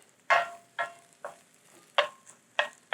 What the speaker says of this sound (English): Go ahead and throw in our onion. Once you hear that sizzle, that's when you know that oil is perfect